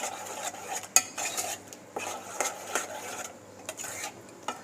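A spoon stirs a tomato and onion masala mixture in a pan, giving repeated soft metallic scrapes and light clinks at an uneven rhythm, close and quiet with a faint background hum.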